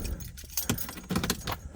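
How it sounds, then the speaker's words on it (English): Keys jangle close up in a car's ignition as it is started, the car fitted with an X60 multi-gauge and a JCW shift light; brief metallic rattles and clicks over a low rumble, with no clear engine catch. "And we'll fire it up for you right here."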